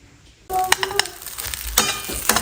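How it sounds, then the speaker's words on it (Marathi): Idli pieces dropped into a hot pan, with a sudden burst of sizzling that starts after a quiet moment, then stirring scrapes and clinks over the continuing fry. "आता मी इडली फ्राय बनवून घेते"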